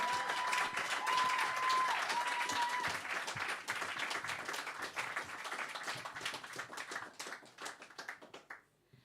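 A concert audience applauds the opening act in a full, dense round of clapping with a whistle early on, gradually thinning to scattered claps and fading out near the end.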